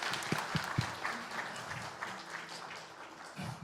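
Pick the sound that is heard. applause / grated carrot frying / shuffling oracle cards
applause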